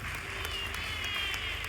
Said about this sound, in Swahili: Naomba makofi kwake.